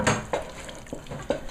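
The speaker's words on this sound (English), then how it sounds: "Andy, if you just want to mix those into the sauce" Blanched vegetables stirred into a pot pie sauce in a pot, giving a few soft scraping and knocking stirs of a utensil against the pan, close and fairly quiet, with no talking.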